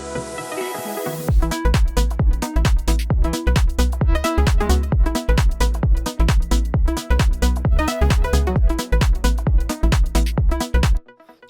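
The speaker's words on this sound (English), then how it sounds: "Then we're going into the drop section where we're keeping the vocal" A pop-dance drop chorus of a song plays loud and full, with pumping beat-driven chords, heavy kick pulses and a vocal line carried over the top, after a brief softer intro, stopping abruptly near the end.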